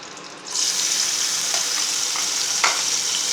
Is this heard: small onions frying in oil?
yes